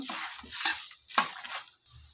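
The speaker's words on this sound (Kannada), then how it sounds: "ಇವಾಗ ನಾನು ಕರ್ಬೇ ಹಾಕ್ಕೊಂಡು ಫ್ರೈ ಮಾಡ್ಕೊತೀನಿ" Curry leaves fry in hot oil in a pan for Melkote temple-style puliyogare paste, giving bursts of crackling sizzle with stirring scrapes, close and fairly loud, with no voices.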